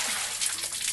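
Cold running water rinses and sloshes over food being washed in a Nepali restaurant kitchen while vegetable chowmein is prepared, a steady close splashing hiss filling the whole second.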